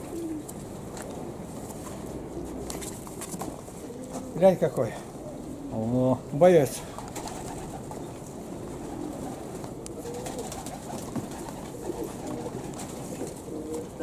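Purebred pigeons coo in a few short throaty bursts, close by, while people chat quietly amid outdoor background noise.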